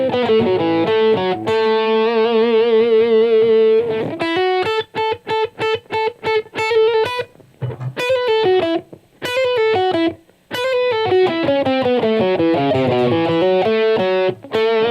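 Clean electric guitar with no delay or reverb plays a passage from a soul song, a sustained chord, then a run of choppy rhythmic strums, then more sustained, ringing chords. Loud and close, with no talk.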